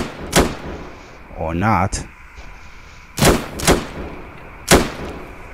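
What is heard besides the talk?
gunshots in the Roblox video game Bodycam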